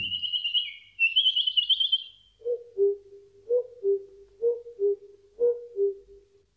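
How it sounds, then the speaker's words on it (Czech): Birds sing in a quiet forest: a bright high chirping trill comes first, then a lower bird repeats a two-note call four times at an even pace against near silence. "V lese bylo ticho, jen ptáci zpívali."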